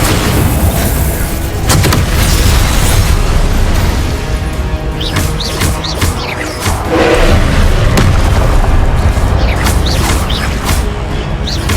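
Confringo and Incendio spell blasts during Percival Rackham's Trial in Hogwarts Legacy, a loud, sustained barrage of booming explosions, mechanical rumbles and crackling bursts, with fiery whooshes cutting through the dense, close battle din.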